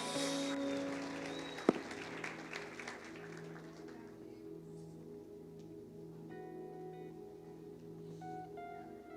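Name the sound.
church congregation applauding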